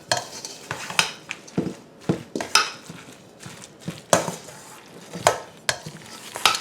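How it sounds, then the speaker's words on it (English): Zucchini fritter batter with egg yolks and seasonings gets mixed in a bowl, giving close, irregular clinks and scrapes of utensil against dish with soft wet stirring between them and no talking. "Just keep blending until all your seasonings and everything are mixed"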